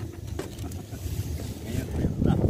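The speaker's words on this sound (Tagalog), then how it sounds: "Malakas ang hangin" Steady broadband wind rush buffets the microphone, with low rumbling gusts that swell louder toward the end; faint voices sit underneath.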